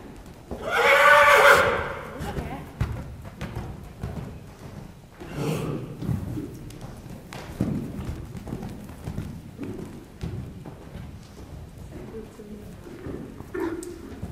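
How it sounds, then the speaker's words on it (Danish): A horse neighs loudly once near the start, a long shaky whinny, followed by scattered clip-clop and bird cooing in an indoor stable or arena, with quieter background sounds continuing afterward. "Det er kun jeres mor, der kan vrinske."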